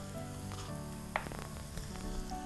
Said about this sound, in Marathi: मसाल्यांना थोडंसं भाजून घेऊयात